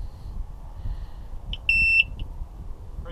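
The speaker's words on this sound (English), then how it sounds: "Heard the beep. Stall works. Stall horn works." A single steady electronic beep from an aircraft stall warning horn sounds briefly, about a third of a second, during a preflight check over a low background rumble, with a few faint clicks around it.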